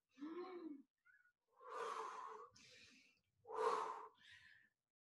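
Deep, audible breaths during a guided breathing exercise, with arm circles and inhaling as the arms rise: a few slow inhale-exhale cycles, fairly close and clear, with short pauses between them and no talking.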